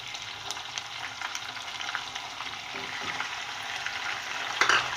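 Meat goes into a pan of light golden-brown fried onions, giving a continuous close sizzle with scattered scraping stir clicks that build slightly toward the end, no voices.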